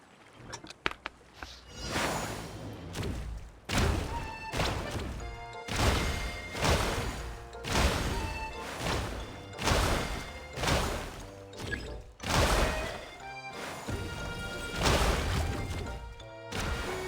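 Repeated hits on tough material in Genshin Impact, a steady series of loud smacking crashes about once a second over background music, with no talking.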